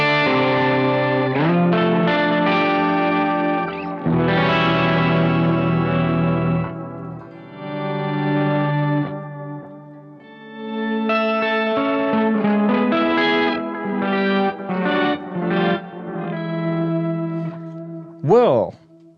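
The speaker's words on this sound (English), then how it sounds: "I'm switching the shifter pedal off and on a couple of times, perhaps. But this is the basic sound for this song." Electric guitar played through effects with a shifter pedal switched on and off, sustained distorted chords and melodic phrases with chorus and echo, ending in a sharp pitch bend.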